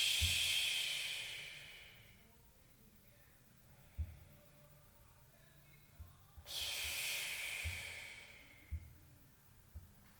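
Two long, slow breathy exhales sound close and soft during a hip-opening yoga pose, separated by quiet, with faint low thumps between them.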